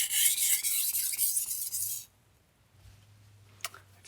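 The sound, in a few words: Japanese knife being sharpened on a whetstone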